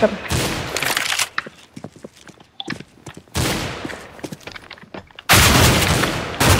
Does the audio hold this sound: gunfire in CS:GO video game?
yes